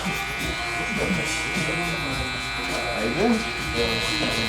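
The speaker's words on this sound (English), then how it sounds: "I went ahead and created my first guideline with the clipper all the way closed" A hair clipper with its guard fully closed cuts a side taper guideline during a high taper haircut, humming steadily and loud up close while someone talks over it.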